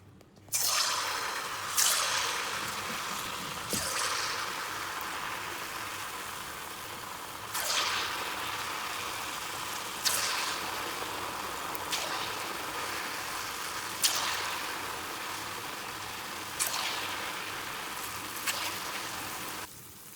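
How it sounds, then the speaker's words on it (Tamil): Palm fruit paniyaram batter drops into boiling oil in a pan, each spoonful setting off a sharp hiss and sizzle that recurs every few seconds over a continuous close crackle of frying, with no talking. "தாச்சியில் எண்ணெய் விட்டு கொதிச்சு வருது. கொதித்த பிறகு போடுவோம். சரி, எண்ணெய் கொதிச்சிடுது, நாங்கள் போடுவோம்."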